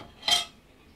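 A metal ladle clinks once against a pot of hot pho-style soup broth with bok choy stems, a brief bright ring that fades quickly, close and fairly quiet.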